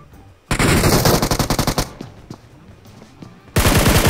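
Automatic gunfire in the video game PUBG Mobile: a loud rapid burst of rattling shots, a few scattered single cracks, then another sudden heavy volley at the end, all close and punchy.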